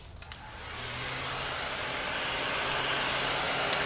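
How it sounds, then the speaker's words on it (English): A heat gun used for heating vinyl starts up and swells into a steady, close blowing roar that holds constant to the end. "get my heat gun and turn it up"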